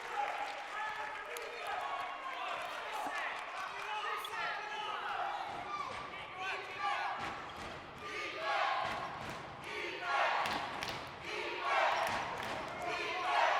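A home crowd in the gym at a Brookdale men's college basketball game cheers and shouts steadily, with sneaker squeaks and ball bounces mixed in and a commentator talking over the noise.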